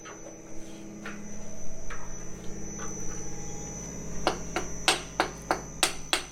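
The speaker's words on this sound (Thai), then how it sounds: "ตอนนี้เครื่องยังสตาร์ทอยู่นะครับ" The engine of a micropile driving machine runs at a townhouse building site, giving a steady low droning hum, with a series of sharp, evenly spaced knocks toward the end.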